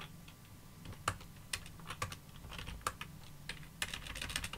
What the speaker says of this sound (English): So I'm just going to type it in.